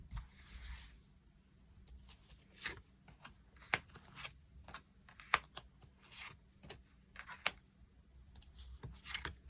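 Tarot cards shuffled by hand in a quiet room: repeated soft riffling bursts and sharp card snaps in an irregular rhythm, close and fairly faint, with no talking.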